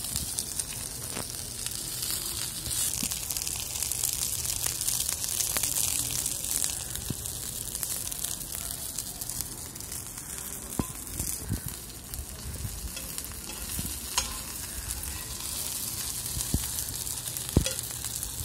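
Black spot snapper pieces sizzle steadily in hot oil on an outdoor terrace cooking setup, a continuous bright frying hiss with occasional small pops and crackles, no voices over it.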